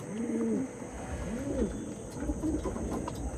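Pigeons coo close by in three separate rising-and-falling calls spaced about a second apart over a low background hum.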